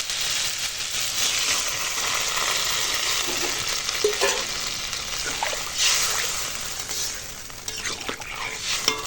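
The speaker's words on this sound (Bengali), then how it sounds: "মশলার সঙ্গে আনাজটা কষানো হয়ে গেছে এবার জল দিয়ে দেবো" Pumpkin sautéed with spices sizzles steadily in a pan as water goes in, with stirring scrapes and a continuous frying hiss throughout, loud and close.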